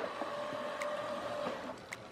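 Motorised whirring hum from a Nespresso Vertuo Plus Special Edition capsule machine by Magimix as its head opens or closes automatically, a steady near mechanical drone with a couple of faint clicks.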